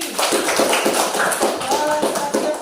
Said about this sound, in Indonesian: Tepuk tangan untuk Suci